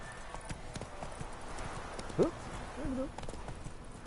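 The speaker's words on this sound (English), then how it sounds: "Hello, Roach. Let's rock. Giddy up." A horse's hooves clip-clop on the ground in The Witcher 3, quiet, irregular steps under faint game ambience, with a brief whinny-like call in the middle.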